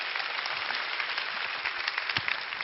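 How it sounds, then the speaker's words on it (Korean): Audience applause at a lecture hall talk, a soft even patter of many hands clapping, fairly distant and continuous with a few sharper claps standing out. "박수 안 주시나요?"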